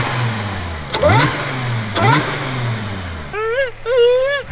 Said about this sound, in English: This is my brother's Dodge Charger Hellcat, and by Charger Hellcat I mean Audi S4 that's supercharged